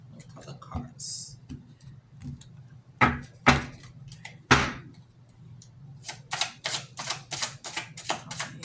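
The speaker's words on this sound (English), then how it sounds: "Let's cut the cards." A deck of tarot cards is cut and shuffled, giving quick papery riffles and sharp slaps in bursts, the clicks speeding into a rapid run near the end, with a voice speaking between them.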